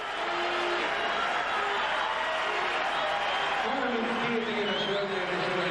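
Crowd at a 2002 world gymnastics championships apparatus final cheers and applauds in a steady, dense roar that holds loud throughout, with whistles and shouts rising near the end.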